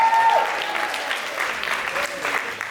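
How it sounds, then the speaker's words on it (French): A small studio audience applauds, scattered clapping that starts fuller and gradually thins out, with a brief voice at the start and faint talk underneath. "Bravo, est-ce qu'on peut l'applaudir?"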